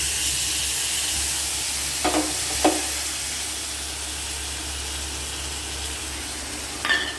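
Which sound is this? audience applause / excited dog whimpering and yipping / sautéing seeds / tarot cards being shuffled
sautéing seeds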